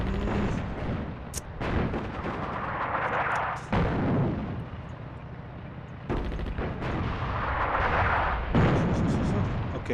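Artillery fire in the WWII strategy game Attack at Dawn: North Africa, First Battle of El Alamein: heavy, overlapping booms and rumbling blasts roll on loud and continuous, with sharp gunfire-like cracks breaking through.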